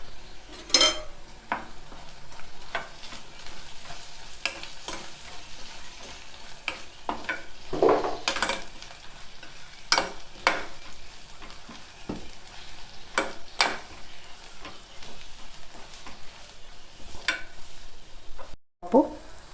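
Curry leaves sizzle in a dal tempering as a faint, continuous fry, punctuated by frequent clicks and scrapes of a spoon against the pan, with a brief silence near the end.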